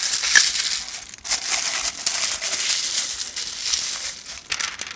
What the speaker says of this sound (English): And wrap it with a piece of protective paper.